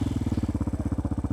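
A brand-new Kayo enduro pit bike engine running loud and close, with a rapid, steady pulsing putter.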